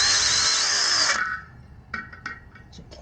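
A power drill spins at high speed for about a second, making a hole to mount a rim lock on a Sur Ron Light Bee, then winds down, followed by a few light clicks and handling knocks nearby.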